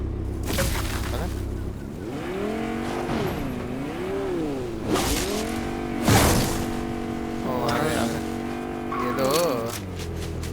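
A car in Fortnite revs and drives, its engine pitch rising and falling through repeated acceleration sweeps, with occasional tire noise, under excited voices talking throughout.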